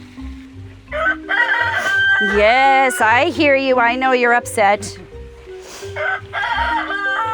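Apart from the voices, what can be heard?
rooster crowing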